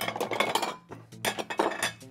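Ceramic clinks and knocks as a plate is picked up and set down on a hard surface, a few close, bright contacts.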